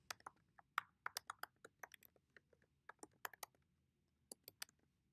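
Someone types an email address on a computer keyboard, a quiet, irregular run of crisp key clicks in short bursts with brief pauses.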